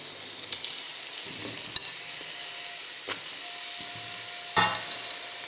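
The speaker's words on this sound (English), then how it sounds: "Still sizzling away nicely there." Beef mince for chilli con carne sizzling steadily in a hot frying pan on medium heat, a constant frying hiss broken by occasional clinks and scrapes of the utensil against the pan.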